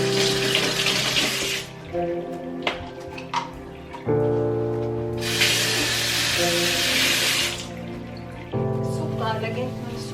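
A kitchen sink tap runs during cleaning, with bursts of gushing water that start and stop, mixed with clinks of dishes and other kitchen handling noises.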